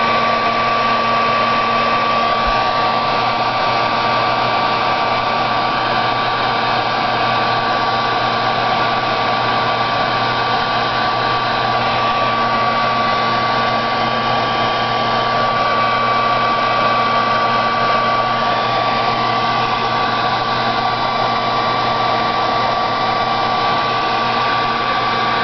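A heat gun melts embossing powder over a stamped wheat design on a fall trifold card. Its steady, loud, continuous blowing whir runs unbroken for the whole stretch with no talk over it.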